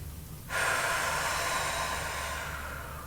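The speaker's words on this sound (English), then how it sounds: "Remember to take a nice big deep breaths." A deep, audible breath during pec mobility exercise: a sudden strong inhale that swells to a steady, breathy rush and holds for a few seconds, close and fairly loud, with no talking.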